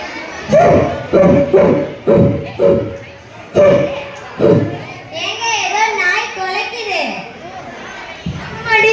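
A dog barks in a series of sharp, loud, evenly spaced barks, then breaks into high, wavering whimpers and whines, with a last yelp at the end and children's voices around it.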